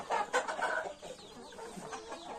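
Fighting cocks, native chickens and meat chickens clucking nearby, a cluster of louder clucks at first, then softer scattered calls continuing.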